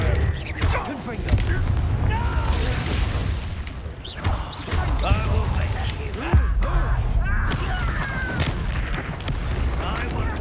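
Casting the Confringo fire spell in Hogwarts Legacy sets off bursts of crackling, explosive impacts amid combat clatter and crashes, fairly loud and repeated, with voices talking in between.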